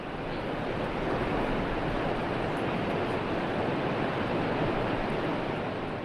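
Seven Sisters Falls at Cherrapunji, a waterfall formed by seven streams, giving a steady, dense roar of rushing water that stays even and loud throughout, with no voices.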